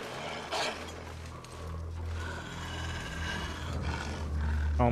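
A wolf in the survival game The Long Dark growls low and rough in a sustained rumble, steady at moderate loudness and swelling slightly toward the end, with no talking over it.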